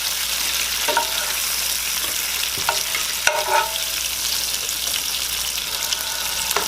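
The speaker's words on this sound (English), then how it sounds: "I have the scallops going, they searing in here." Steady, bright sizzling of scallops searing in a hot pan, with occasional soft clinks and stirring sounds.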